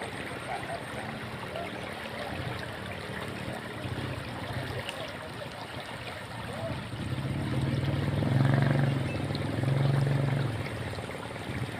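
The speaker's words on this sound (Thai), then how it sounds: "ชมน้ำไหลน้ำท่วมค่ะฝ่ายน้ำล้นค่ะ" Flood water pours over a spillway in rural Thailand, a steady broad rushing roar with a deeper low churning swell toward the end, fairly close and continuous, with no talk.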